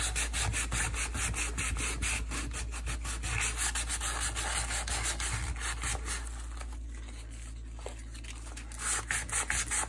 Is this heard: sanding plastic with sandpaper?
yes